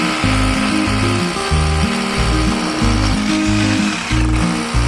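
Rotary hammer drill with a concrete bit boring into concrete, a loud continuous pulsing hammer rhythm with a repeating low chug under a harsh whine, close and alone.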